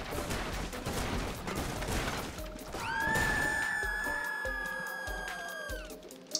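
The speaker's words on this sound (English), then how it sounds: "goats have no use for doors when they can just crash through the glass" Glass smashes with a sharp crash as a goat bursts through a pane in Goat Simulator, followed by ringing, sliding tones and scattered thuds and clatter from the game.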